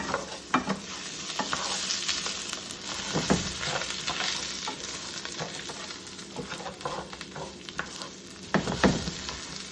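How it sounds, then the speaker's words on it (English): Rice toasting in a pan gives a soft, continuous sizzle broken by intermittent scraping stirs, close and fairly quiet. "here the rice is basically going to toast a little bit so it takes the hardness"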